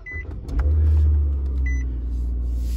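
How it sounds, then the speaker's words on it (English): A 2018 Nissan Sentra SV starts from its push button: short electronic beeps, then the engine cranks and catches, settling into a steady low idle close by. "Push button start."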